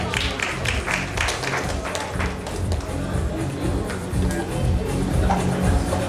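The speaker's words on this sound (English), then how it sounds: "Round of applause." Audience applause at a media summit before a fireside chat session, a dense, steady wash of clapping from a crowd that holds for several seconds at even loudness.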